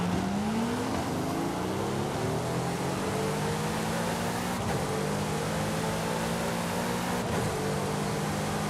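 A Corvette E-Ray with a body kit drives in Forza Horizon 5, its engine note rising steadily through the gears with two sharp shift breaks, loud and continuous.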